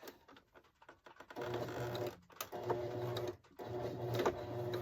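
A sewing machine stitches a small fabric candy cane cowboy ornament in short bursts, its fast mechanical whirring starting and stopping as the piece is turned between stitches, close and moderately quiet.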